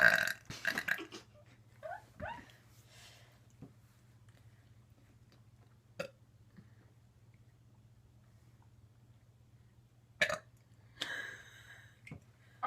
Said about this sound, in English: Orange juice makes me burp.